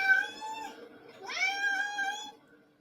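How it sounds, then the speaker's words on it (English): A big gray cat meows twice, two clear drawn-out tonal calls with a short pause between them, close and alone in a quiet setting. "That's a big old gray kitty."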